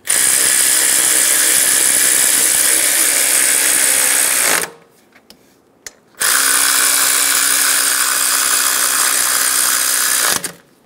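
A power ratchet snugs bolts on a 2010-2014 Subaru Outback during a timing belt and water pump job, running in two long, loud, steady whirring bursts separated by a short pause, with no talking.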